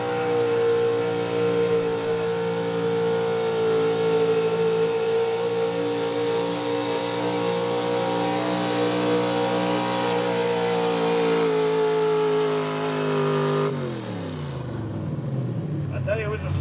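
A square body Chevy pulling truck at a truck and tractor pull roars at sustained high revs, a loud, steady engine drone that holds for many seconds and then winds down sharply. An announcer talks over it.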